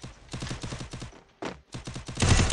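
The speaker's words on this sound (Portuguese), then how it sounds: "Dei com um tiro. Double kill." Automatic gunfire from a shooter video game played on an emulator rattles out in several rapid bursts, one after another, with short pauses between them and a dense final volley.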